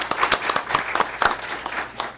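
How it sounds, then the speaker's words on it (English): Audience at a school district board meeting clapping to welcome a new assistant superintendent of business services: a moderate spatter of hand claps from a modest room, fairly steady across the short stretch, with a faint voice or two mixed in. "Give him a round of applause."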